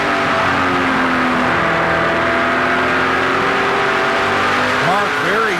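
Onboard race car engine with driver Mark Dilley in the 2010 Velocity Prairie Thunder series, a loud steady drone with held revs and brief rising and falling throttle blips near the end, under continuous commentary.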